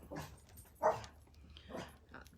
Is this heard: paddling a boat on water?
no